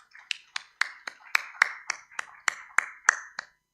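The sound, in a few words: round of applause for the speakers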